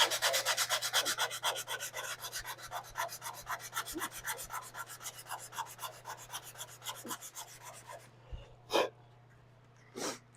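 Sandpaper rubbed by hand on a 24-valve 5.9 Cummins engine makes quick rhythmic scratching strokes that slow and fade out, followed by a couple of brief soft noises near the end.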